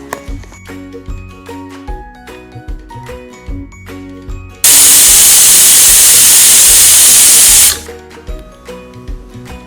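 A pressure cooker whistle blasts steam for about three seconds, a loud, steady hiss cutting through background music while agar-agar (kadal pasi) cooks in a cup of water.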